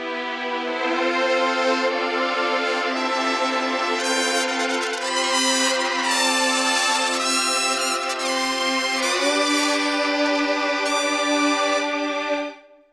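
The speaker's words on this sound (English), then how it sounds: "So I combined the Portamento disco strings with our fire brass legato." Lush sustained portamento disco strings with gliding pitch, layered under smooth legato brass phrases, playing a bright chordal passage that fades out at the end.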